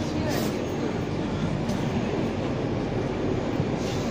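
Interior of a moving Moscow metro train, the D210 "210 years of the Russian Ministry of Transport" livery train, with a loud continuous rumble and roar of wheels on track, steady and close throughout.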